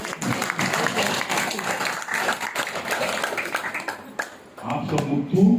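An audience at a Guru Purnima gathering claps in a dense, rolling burst of applause that swells and dips, fairly loud and close, with a voice speaking over part of it.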